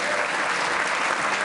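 Loud, dense applause from a lunch audience at the Ireland-U.S. Council St Patrick's event in New York, a thick unbroken roar of clapping hands filling the short stretch.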